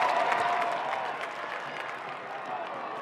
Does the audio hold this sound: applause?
yes